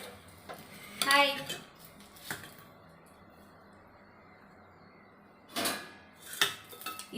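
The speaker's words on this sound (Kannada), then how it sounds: "ಈರುಳ್ಳಿ ಕಟ್ ಮಾಡ್ತಾ ಇದ್ದೀನಿ ಸಾರು ಒಗ್ಗರಣೆ ಹಾಕೋಕ್ಕೆ" Knife slicing onions on a board for a rasam tempering in a home kitchen: a few sparse, quiet clacks and knocks with long gaps between them, close by, with faint voices in the background.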